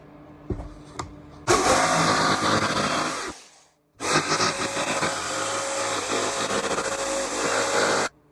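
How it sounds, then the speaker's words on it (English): A jigsaw cutting a line through material for custom A-pillar tweeter pods, a loud, continuous high buzzing whine in two long runs split by a short stop, close up. "And I'm back with the jigsaw."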